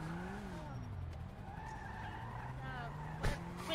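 Car tires skid and squeal with engine drone as a car turns around in a video game, a steady loud screech with a brief sharp burst near the end.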